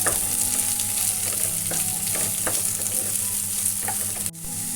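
Thinly sliced onions fry in hot oil in a pan, giving a close, steady sizzle with occasional stirring scrapes, then a brief dip near the end before the hiss resumes. No one speaks.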